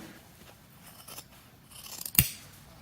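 Sharp scissors trimming fabric close to a seam line on a sewing project: a few soft snips followed by one crisp, loud close cut.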